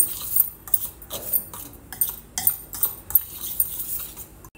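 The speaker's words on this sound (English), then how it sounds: "First mix all the dry ingredients well together." A spoon stirs dry ingredients and spices together in a metal bowl, giving irregular scraping clinks and taps that come close in short repeated strokes.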